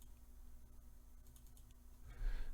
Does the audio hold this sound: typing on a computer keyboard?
yes